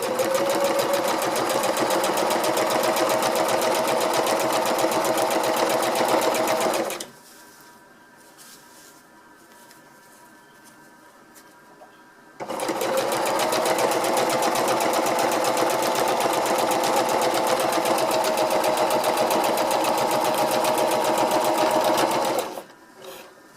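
A sewing machine lock-stitches a seam in tarp fabric for a hex tarp, running in two long, steady, buzzing bursts separated by a quiet pause of several seconds.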